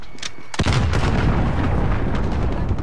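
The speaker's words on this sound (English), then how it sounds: "Allied cruise missile away." A cruise missile strike explodes in the Call of Duty: Modern Warfare video game, one sudden heavy boom followed by a loud, sustained rumbling roar of debris and fire.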